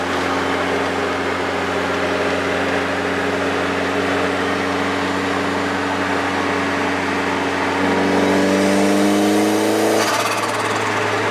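An Opel Calibra turbo engine, tuned to about 250 hp, pulls from low revs in a right-hand-drive car on a Swedish road, a loud steady cabin drone whose pitch climbs smoothly near the end.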